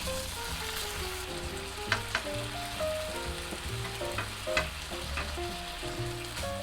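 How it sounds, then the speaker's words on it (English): Chicken meatballs and leek sizzling in a thickened sauce in a pan, a steady close frying hiss with bubbling crackles and occasional stirring clinks, no talking. "return the meatballs and leek to the pan"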